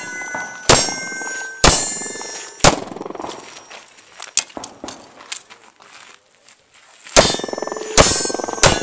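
Gunshots striking steel targets during a night shoot: sharp cracks followed by ringing metallic clangs, several spaced hits with a quick double at the end and quieter rattling between.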